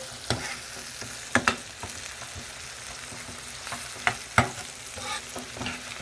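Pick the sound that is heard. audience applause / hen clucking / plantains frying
plantains frying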